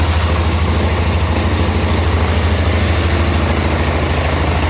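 A 1988 Club Car golf cart's engine idling steadily, a loud, close, low rhythmic chug that stays even throughout with no talk over it.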